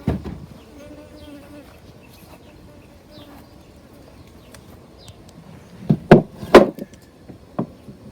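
Faint, low buzzing of bees drifts through while a hive is being moved, with a few sharp knocks and thumps of handling near the end.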